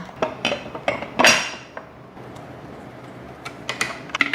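Small metal burr parts of a coffee grinder being fitted back together, giving a few sharp clinks and taps of metal on metal, close and fairly quiet, with scattered lighter ticks and no talk.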